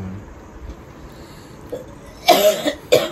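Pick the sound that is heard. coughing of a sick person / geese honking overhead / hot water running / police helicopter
coughing of a sick person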